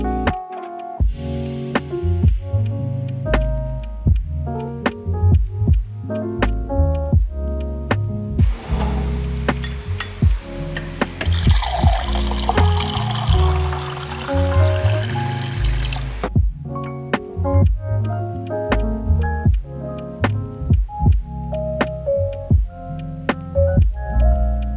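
Granola pours onto Greek style vanilla yogurt: a steady dry rustling patter that lasts several seconds, with music playing throughout.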